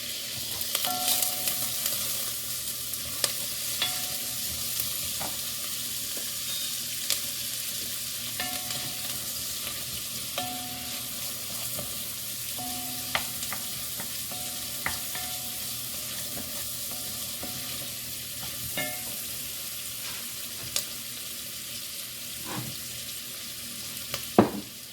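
Onion frying in unsalted butter for black-eyed peas, a continuous soft sizzle with occasional spoon taps and stirring clicks over 25 seconds.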